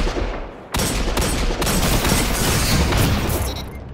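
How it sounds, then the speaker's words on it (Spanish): Dense, loud gunfire from a Destiny 2 match pours out in rapid bursts after a short lull, with heavy booming shots overlapping one another and filling the whole stretch. "Le fallé unos tiros"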